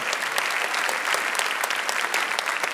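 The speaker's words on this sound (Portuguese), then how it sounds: "Pode dar uma salva de palmas para o Senhor, porque é para Ele." Steady applause from a church congregation, dense and sustained clapping at even volume throughout, with no voices rising above it.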